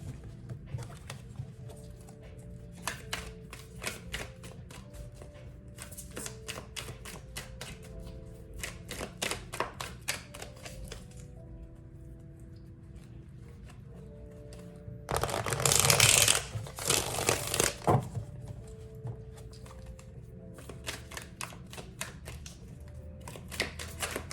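Cards being shuffled in quick rattling bursts, repeated several times with short pauses between, with a louder, dense riffle near the end; no talking.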